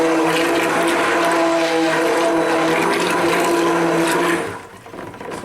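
A blender whirs loudly and steadily as it mixes clay into a soap mixture, its motor hum holding constant for several seconds before cutting off abruptly.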